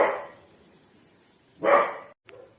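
A dog barks twice in sharp bursts about a second and a half apart, then gives a short softer yelp, moderately near with quiet background between barks.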